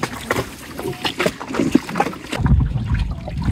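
A newly bought wooden boat moves on water at dusk, with close, uneven splashing and knocking strokes and wind rumble on the microphone that swells toward the end.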